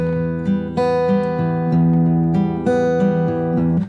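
Guitar playing the first half of the hymn O Sacred Head Now Wounded as a loop, steady plucked notes in a slow metered rhythm with ringing sustain, close and clear with no talking.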